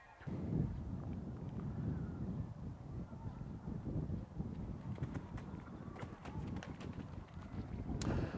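A show-jumping horse lands and strides over a plank on an arena floor, its soft, muffled hoof thuds repeating in a steady rhythm under wind and faint talk.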